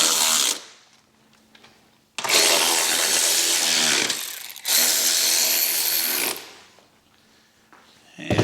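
A power tool tightens bolts while a Hertz Stage 4 amp system goes onto a 2022 Harley-Davidson, two loud whirring bursts of about two seconds each separated by brief quiet gaps, close up.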